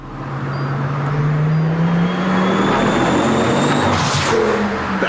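A car engine revs loudly and close, its drone climbing steadily in pitch and holding a strong, continuous roar throughout.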